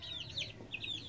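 High, thin cheeps from three-week-old Indian gurk chicks, a few short chirps in quick succession, close and fairly soft.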